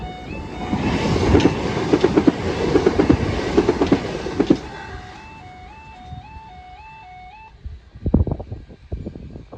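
A train rumbles and clatters nearby, then fades as a rising-and-falling tonal warning chime sounds, followed by a few sharp knocks.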